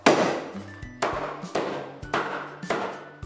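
A heavy cleaver chops pork ribs into short pieces on a board, six loud, sharp whacks at a steady rhythm, each ringing briefly, close up with no talking.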